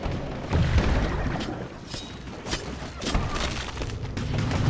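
Gunfire in the underwater shark game Depth: muffled booms and thuds pile up in a dense, rumbling barrage, fairly loud and continuous, with no clear speech.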